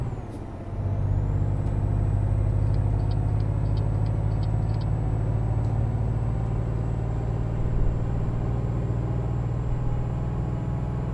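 Truck driving in Euro Truck Simulator 2 on a ring road near Caen, with a steady loud low engine drone and rumble throughout, a brief hiss at the start and faint high tones above.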